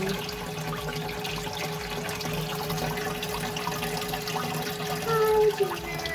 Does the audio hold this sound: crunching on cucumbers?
no